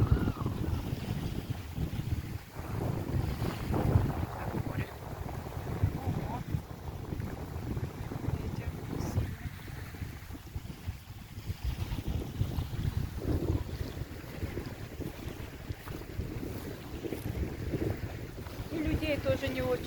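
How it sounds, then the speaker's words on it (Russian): Strong April wind blows at the Tbilisi Sea reservoir, buffeting the microphone with low, gusty rumbles over the wash of waves, while a faint voice is barely noticeable beneath the roar. "Правда, ветер. Плохо будет слышно."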